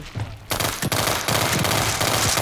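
Rapid bursts of pistol gunfire in the video game World War 3 crackle loudly and continuously after a short quiet start, dense overlapping shots with no voices.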